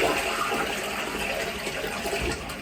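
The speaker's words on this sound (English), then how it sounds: "It does standard flush." A Japanese washlet toilet in an apartment bathroom runs a standard flush, a steady loud rush of water that fills the whole stretch close by.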